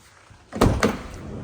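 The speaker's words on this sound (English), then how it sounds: "Just flicking these rear doors, we'll head through into the back." Rear doors of a 2019 Volkswagen Transporter Kombi van are opened, giving two quick, loud metallic clunks close by, then a fading rumble after a quiet start.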